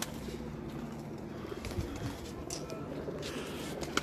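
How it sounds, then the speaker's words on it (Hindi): Hino pigeons cooing on a rooftop loft, soft repeated low coos close by over a constant background hiss and faint ambient rustling. "ये हिनो कबूतर है जी"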